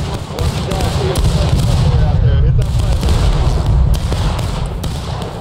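Civil War musket volleys crackle through a video game battle, with distant and nearby shots thudding over a constant low rumble and people talking over the gunfire.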